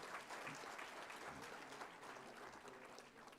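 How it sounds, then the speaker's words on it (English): Audience applause at a national scientific conference on sterile processing, a continuous, fairly faint wash of many hands clapping with a slight crowd murmur, steady from start to finish. "So can we have a big round of applause to sir?"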